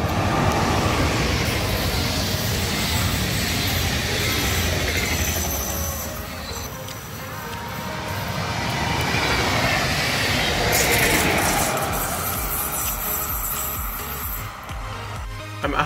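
A train rumbles past steadily, with rolling wheel noise and occasional metallic squeals, fairly close and continuous throughout.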